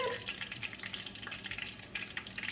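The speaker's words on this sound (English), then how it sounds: "Ooh, y'all see it frying?" Conch fritters fry in hot oil, giving a continuous crackling sizzle with fine pops throughout, close and fairly quiet.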